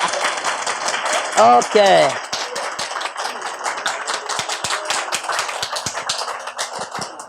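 An audience at a mind-power seminar claps hands in scattered, uneven bursts after a brief spoken word, the claps continuing loosely for several seconds.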